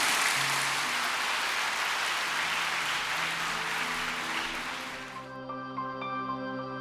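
A church congregation gives a dense, sustained round of applause at a memorial service. The applause fades after about five seconds as soft organ or keyboard tones take over.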